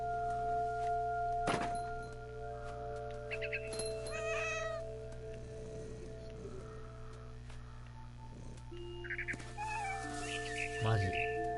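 A cat in What Remains of Edith Finch meows several times amid bird chirps, a thunk and steady background hum, moderately close, with a voice speaking briefly.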